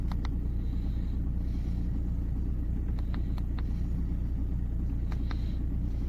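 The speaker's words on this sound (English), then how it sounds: "And this is an Audi A4 B6 TDI Avant." A diesel Audi A4 B6 TDI Avant idles with a steady, close, low rumble and no talking, broken only by a few faint clicks.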